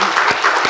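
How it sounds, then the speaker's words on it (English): A brief burst of audience applause at a climate talk event, a dense patter of many hands clapping at once, close and loud. "We're gonna give a round of applause for that."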